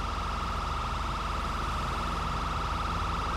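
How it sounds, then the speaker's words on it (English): A police car siren in a video game, a steady electronic wail that cycles continuously and stays loud and level throughout, with no talk over it. "This cop has a siren, like, legit"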